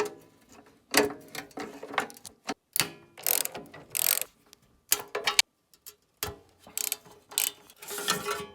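A ratchet clicks in quick, uneven bursts with short pauses as it loosens the fasteners on a snowblower's carburetor cover. The work is close and fairly loud, with no talking.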